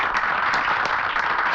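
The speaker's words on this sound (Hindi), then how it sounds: "तालियों के साथ" An audience claps steadily and evenly, a dense wash of applause held at a constant level with a few louder individual claps standing out.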